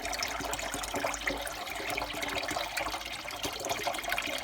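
Rinse water from an Indesit Moon washing machine draining out in a steady, continuous rush and trickle, close and moderately loud, with no voices.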